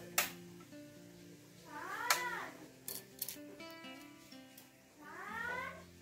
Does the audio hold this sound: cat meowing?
yes